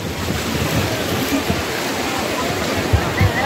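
Sea waves at Digha beach wash in a constant broadband roar while a boat is pushed into the water, with gusty wind buffeting the microphone throughout.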